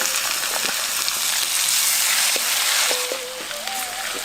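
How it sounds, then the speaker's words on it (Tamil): Mustard seeds, curry leaves, vadagam and crushed garlic sauté in sesame oil for a village-style vatha kuzhambu, a steady close sizzle of frying with a few faint pops and clinks of stirring, and no talk. "150 ml நல்லெண்ணெயில 1/4 தேக்கரண்டி கடுகு, 2 தேக்கரண்டி தாளிப்பு வடகம், கொஞ்சம் கறிவேப்பிலை இதெல்லாம் சேர்த்துட்டு தட்டி வச்சிருந்த பூண்டையும் சேர்த்து நல்லா வதக்க ஆரம்பிச்சிருவோம்"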